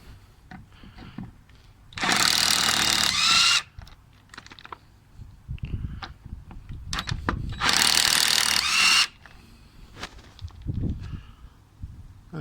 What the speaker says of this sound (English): It's a 17mm nut for them, so the impact gun, put it on high